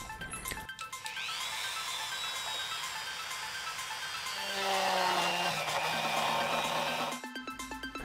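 A rotary tool with a detail bit whines at high speed while smoothing the edges of a hole cut for a pixel LED mobile suit build, starting after a brief clatter, rising in pitch, then spinning down near the end.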